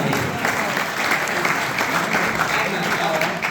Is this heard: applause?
yes